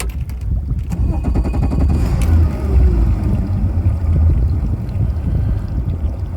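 A boat motor, just back from the dealer, runs on the trailer with a loud, steady low rumble and churning water that keep going without a break.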